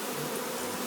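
Honey bees swarm densely during a rural hive removal in Jamaica, a loud, close, unbroken buzzing drone that fills the whole moment with no talk.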